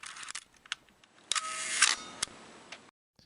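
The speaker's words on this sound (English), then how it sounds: "Then wind and release the camera a couple times, testing various shutter speeds." Olympus OM-1 film camera being wound and fired a few times, crisp mechanical shutter clacks and ratcheting wind strokes at close range, with brief gaps between actuations and no talking.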